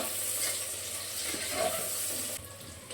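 Onion and green chillies frying in a pan with a steady sizzle, a brief louder burst midway as the food is stirred, the sizzle easing slightly near the end.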